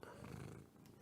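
A cat purrs softly up close, a low rumbling rhythm that is faint and brief, with some talking around it.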